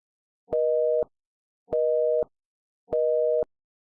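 A Google Voice call tone plays three times, each a steady dual-pitched beep of about half a second separated by roughly a second of silence, clean and alone.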